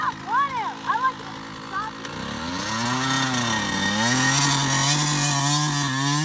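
Yamaha YZ125 two-stroke dirt bike engine revving hard while popping wheelies, a buzzing, rising and falling whine that starts after a brief stretch of other noise and holds steady and loud to the end.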